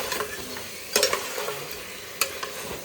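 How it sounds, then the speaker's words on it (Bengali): Meat being sautéed in a pan, a steady sizzle broken by a few sharp scraping stirs, close and fairly quiet with no talking. "এখানে মাংস আবার আমাকে কষাতে হচ্ছে"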